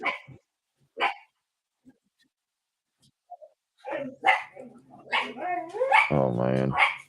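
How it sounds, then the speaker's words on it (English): Dog barking with an echo in the background, a few sharp barks spaced apart between stretches of silence, followed by a person speaking over a whimpering, yipping tail end. "You can hear the dog echoing too in the background."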